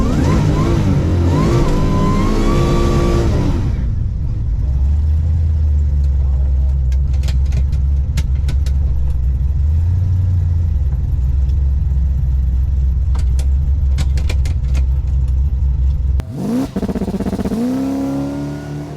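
A Big Block Crown drag car's engine idles loud and rough at the drag strip, with steady low rumble, a brief blip of revs midway, and sharp revving at start and end.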